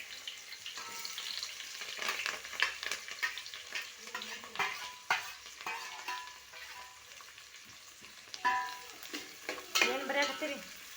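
Chopped onion sizzles and fries in a pan as the base for a simple rice dish, a steady crackling hiss broken by stirring scrapes, close and fairly loud with no talk.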